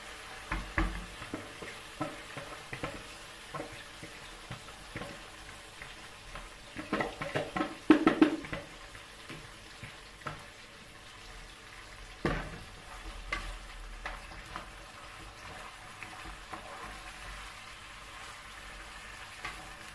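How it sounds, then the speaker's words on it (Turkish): Rice roasts quietly in a pan with a low sizzle while a spoon stirs and scrapes it in irregular bursts, the clinks clustering and loudest midway. "Biraz da pirincimizi kavuralım."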